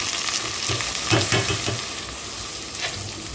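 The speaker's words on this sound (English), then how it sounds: "So I usually prefer putting my rice in the oil." One cup of rice fries in oil with onions, sizzling steadily up close while a utensil stirs and scrapes the pan now and then.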